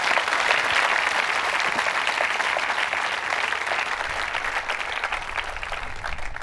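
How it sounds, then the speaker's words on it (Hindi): Sustained applause from a quiz show audience at a government women's engineering college in Ajmer, steady and dense for about six seconds with no voices over it. "तालियां बजाइए सभी के लिए आप"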